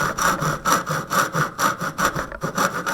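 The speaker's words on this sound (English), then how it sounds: "Use your knuckle as a guide when we're sawing." A hand saw cutting wood in regular back-and-forth strokes, about six rasping pulls per second-and-a-half, close and loud, with no talking.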